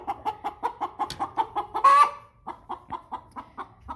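An American Bresse hen clucks close by in a steady, rhythmic series of pulses, with a louder, drawn-out squawk breaking in midway before the even clucking resumes.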